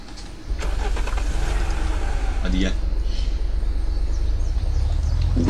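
Car engine in the survival video game Unturned: an engine starts and then runs with a loud, continuous rumble, with a brief voice partway through.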